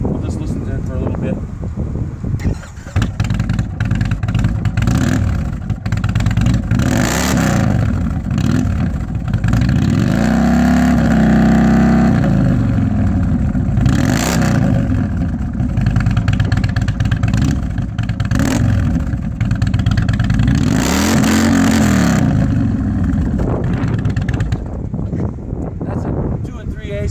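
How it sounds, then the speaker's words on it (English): Indian motorcycle fitted with Toxic Pipes Outlaw slip-on exhausts, baffles installed, idling with a deep rumble and then revved repeatedly in loud, rising and falling bursts, heard up close over wind noise. "Again, this bike has the baffles in it, and we'll just listen to it for a little bit."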